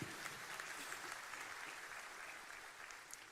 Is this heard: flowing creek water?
no